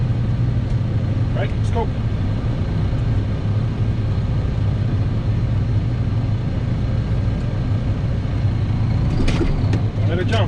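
A heavy truck engine runs steadily under a rookie driver as he works through the gears, a continuous low rumble with brief shift changes, while an instructor and driver talk over it.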